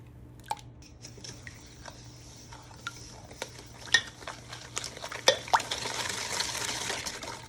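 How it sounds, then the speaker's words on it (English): Sugar, oil and eggs for a carrot cake being stirred together in a bowl, with soft scraping and clinks of a utensil against the bowl that grow busier and louder toward the end, no talking. "I'm going to mix all the wet ingredients first, make sure they're all blended."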